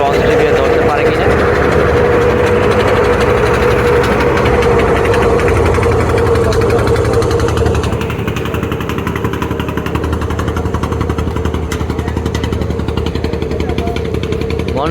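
A Barishal–Dhaka river passenger launch runs its engine while working through reversing, a loud, continuous low knocking drone that eases slightly partway through, with someone talking over it.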